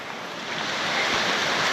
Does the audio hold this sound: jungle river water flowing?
yes